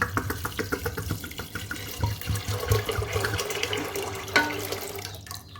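Water runs steadily into a cooking pot of red masoor lentils seasoned with salt, a continuous splashing stream with a few light clinks of the vessel, close by, with no talking.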